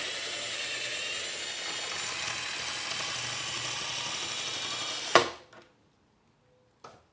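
A Black Widow scissor lift, set up to hold a motorcycle, is lowered with a steady mechanical whir that builds gradually and ends in a sharp metallic clunk. Silence follows, then a brief soft knock. Close and fairly loud, with no talking.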